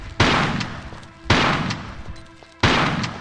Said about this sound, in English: I'm shooting grenades at bats.